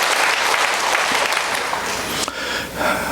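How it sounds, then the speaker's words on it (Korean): A church congregation applauds during a Sunday worship service, with dense, loud clapping from many hands that swells and then thins out toward the end, with a few brief incidental noises mixed in. "정말 우리 하나님께 감사와 영광의 박수 한번 올려드려야 됩니다"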